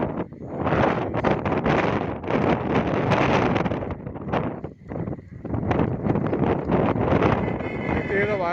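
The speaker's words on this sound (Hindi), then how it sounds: "बड़ी तेज हवा चल रही है।" Strong gusting wind batters the microphone on open temple stairs at an old Hindu temple in Rasool Nagar, Wazirabad, with rain arriving. Heavy roaring bursts come and go in uneven waves, with brief lulls.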